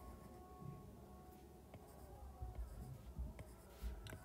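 Soft pen-on-paper scratching while a math problem is worked out, faint and continuous with a low background hum, with small taps near the end.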